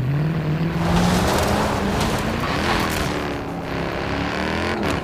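A car in Forza Horizon 4 accelerates through the gears, its engine note rising and dropping at each shift, loud and continuous with a steady droning rumble underneath.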